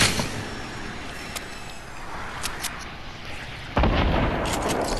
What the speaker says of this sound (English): let's just fire one quick rocket right there